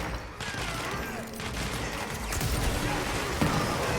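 Dense gunfire in the video game Control rattles continuously in rapid overlapping bursts, loud and sustained throughout.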